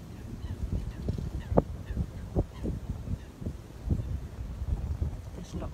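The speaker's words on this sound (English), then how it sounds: "There's lots of waterfowl on the lake out in front of me." Geese and other waterfowl honk intermittently from across a lake beside reeds, the calls irregular and moderately distant over low wind rumble and outdoor ambience.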